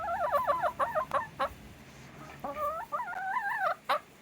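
A curious hen on a homestead approaches close by, giving a run of wavering, high clucks and chattering calls in short bursts, a pause, then a longer warbling series, loud and alone.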